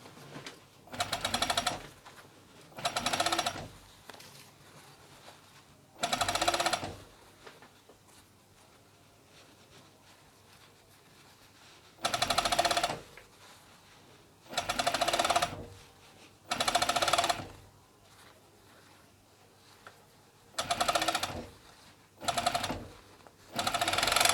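An overlocker sews ribbing cuffs and a hem band onto a hoodie, running in about nine short, loud bursts of rapid mechanical whirring separated by quiet pauses.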